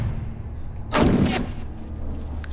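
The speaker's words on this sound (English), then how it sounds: "Stop shooting at nothing." A single loud gunshot booms out in The Last of Us, its crack ringing and decaying over about half a second against a quiet game backdrop, with no voices.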